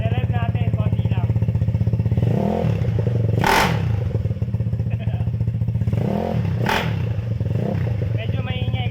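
Close to a lowered Yamaha Mio Sporty 200cc street scooter with a slightly noisy worn part, the engine idles with a steady putter and is blipped in two short rising revs that swell and fall back.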